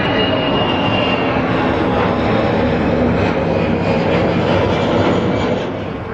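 A TUI Boeing 737 MAX departs Gatwick in a loud, close jet roar that holds steady and broad, then begins to ease slightly at the end.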